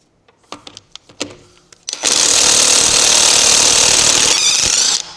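A Lidl Parkside cordless impact gun is heard after a few light knocks and clicks, firing up into a loud, sustained rattling hammer for about three seconds up close, then stopping.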